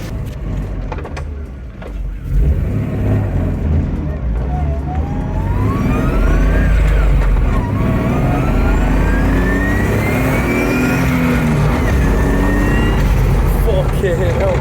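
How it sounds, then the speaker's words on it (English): A BMW E36 with a turbo engine on its first drive after a new ECU revs hard and accelerates loudly, its engine note rising and climbing in pitch up close, with no speech over it. "So first test drive after the new ECU."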